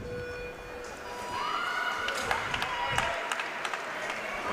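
A crowd at a track cycling national championship cheers and claps for a Queenslander rider bursting out of the starting gate. The noise swells to a steady roar with scattered sharp claps.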